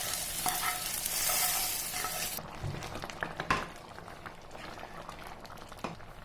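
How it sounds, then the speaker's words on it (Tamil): Tiffin-style hotel sambar bubbling in a pot as a tempering is tipped in with a brief sizzle, followed by steady stirring and soft simmering burbles, close and fairly quiet. "சாம்பார் கொதிக்கும் போது நம்ம தாளிச்சு வச்சிருக்கிறத இதில் சேர்த்துடலாம்."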